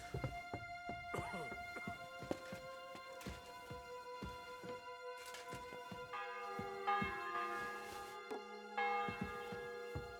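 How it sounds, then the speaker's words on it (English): Church bell ringing in the medieval video game Kingdom Come: Deliverance II: repeated metallic strikes with long ringing overtones, mixed with wooden thunks and faint hoof clops, with no talking. "The bell's ringing for Hans the 5th time."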